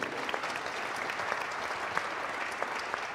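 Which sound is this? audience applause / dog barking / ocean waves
audience applause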